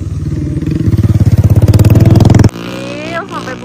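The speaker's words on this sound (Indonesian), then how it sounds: "Ada suara motor naik" A motorcycle engine labours uphill on a hillside trail at Bukit Watu Jengger, 1100 m up, with a loud, rapid, throbbing pulse close by for about two and a half seconds. It then cuts off, and quieter voices follow.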